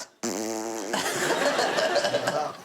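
A voice imitates a long, loud, sputtering horse fart, close up and rumbling for a couple of seconds.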